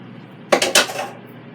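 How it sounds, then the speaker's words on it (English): Seasoned chicken wings are dropped into a Cosori air fryer basket, giving two or three quick metallic clanks in close succession against a quiet background. "I'm just going to put these wings in here."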